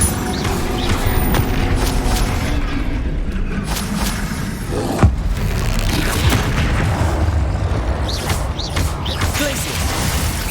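Incendio fire spells cast in Hogwarts Legacy, deep booming bursts and fiery whooshes over a dense rumbling game soundscape, with a sharp impact midway and swishing flares later.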